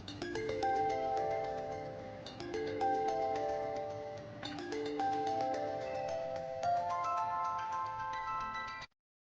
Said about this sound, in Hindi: अरे उठा लो ना फोन।